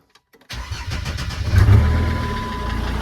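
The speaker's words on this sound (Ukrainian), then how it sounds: "Значить, ми робимо запуск двигуна." A Jeep Grand Cherokee 2.7 diesel engine cranks and catches after a brief silence, then settles into a steady, close idle with a low rumble.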